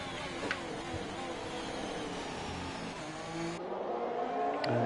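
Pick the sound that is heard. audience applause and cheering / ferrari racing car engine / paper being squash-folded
ferrari racing car engine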